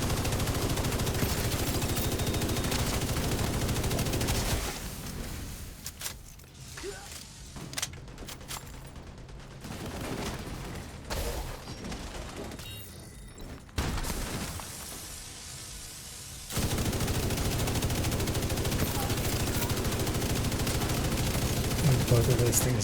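Video game gunfire while moving through a building: long stretches of dense, loud automatic firing and bursts, with quieter gaps of scattered shots in the middle before heavy fire resumes.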